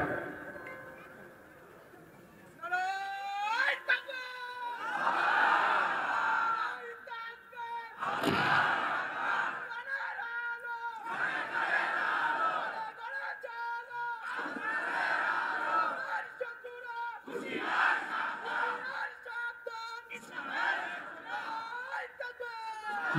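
At a religious sermon gathering, a young man leads the takbir and a crowd answers in loud, unified chants. The call-and-response bursts repeat in a steady rhythm, separated by short pauses.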